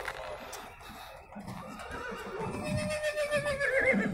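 At a horse market, a horse lets out a loud, close whinny that swells into a rising, trembling neigh toward the end, with a faint hoof clop and crowd murmur beneath.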